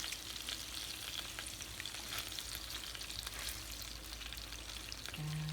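Naem, Thai fermented pork sausage, frying in a pan, with a steady, dense sizzle and crackle throughout, close and fairly loud, with no voices.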